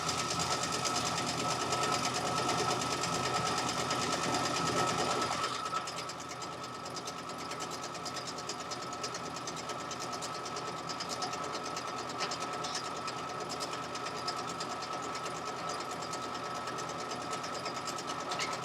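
A sewing machine stitches continuously and steadily up close, its rapid mechanical clatter louder for the first few seconds and then settling to a slightly softer, even hum for the rest, with no talking.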